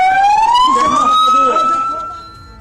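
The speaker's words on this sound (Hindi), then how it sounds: "चारों तरफ सायरन बज रहे हैं।" A loud emergency siren wails amid the chaos following an Israeli strike during the Israel–Palestine war, one long tone rising and holding steady before fading, with indistinct voices faintly underneath.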